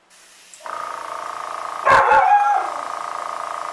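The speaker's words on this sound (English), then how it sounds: "Sorry, my dog." A pet dog barks once or twice, a short burst close by against a steady hiss and hum in an indoor room where alcohol ink painting is under way.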